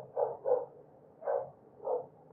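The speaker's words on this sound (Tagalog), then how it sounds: "Habang kumakahol yung aso" A dog barks four times in muffled, somewhat distant woofs, two quick ones followed by two more spaced apart, with nobody talking.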